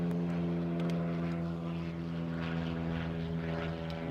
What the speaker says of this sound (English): As you guys can hear, there is a prop plane above us.